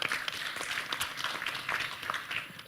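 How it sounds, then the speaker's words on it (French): Audience applause in a conference hall at a business forum in Abidjan, a dense, steady wash of many hands clapping that holds evenly throughout without any voices on top. "Ça, je crois que ça s'applaudit aussi."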